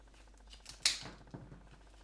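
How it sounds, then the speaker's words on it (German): Scissors snip through woody salal leaves during floristry work, a few close, crisp cuts, one sharp clip standing out with a quieter snip after it. "Salalblätter, die schneide ich mit der Schere, weil die sind ja holzig."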